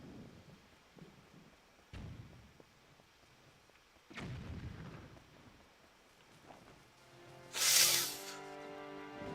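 Cannon firing bombs in The Legend of Zelda: Wind Waker HD, three deep booming blasts a couple of seconds apart, each followed by a rumbling decay, then a bright hissing burst near the end.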